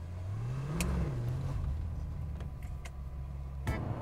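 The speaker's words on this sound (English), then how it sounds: "The V8 engine noise is intoxicating." A Maserati 4200 with its V8 engine revs up and settles back in a steady, loud, close drone with a rising and falling pitch, with a few faint clicks on top.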